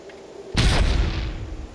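A mine blows up in the video game Fallout Tactics, a single sudden loud boom that rumbles and fades over about a second, alone without talk.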